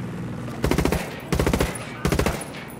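A fixed machine gun fires in the video game Narco Road in three loud, rapid bursts, each about half a second long, with short pauses between them.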